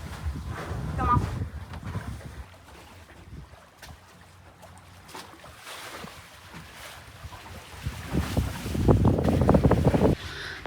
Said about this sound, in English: As you see, we're sailing right now east, but we were motoring west yesterday.